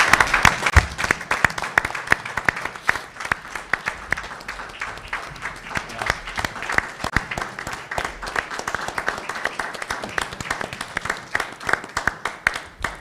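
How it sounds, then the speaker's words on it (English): Audience at a county public schools board meeting applauds the ROTC cadets, a sustained round of dense clapping from a roomful of people that carries on evenly for the whole stretch, with sharp individual claps standing out near the front. "I think we need to give a great applause to the ROTC."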